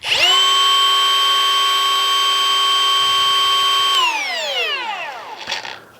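An 18-volt die grinder fitted with a carbide burr, fixed speed around 27,000 RPM, whines at a steady high pitch for four seconds, then spins down with a falling tone as it coasts to a stop.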